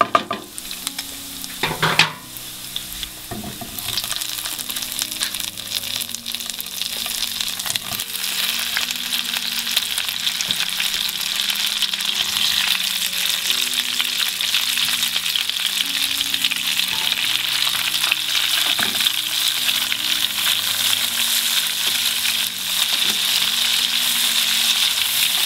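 Cherry tomatoes dropped into a hot pan of garlic and oil for a sauce, sizzling loudly and continuously at close range, with a few clatters and stirring scrapes near the start.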